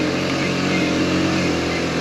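A Kawasaki Z125 motorcycle riding over cobblestones, a steady close engine drone with road rumble beneath, continuous and even throughout.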